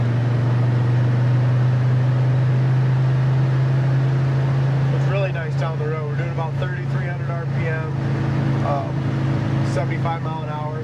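A 1971 Chevy Chevelle cruises at highway speed, a steady low engine drone with road and wind rumble inside the cabin while someone talks over it.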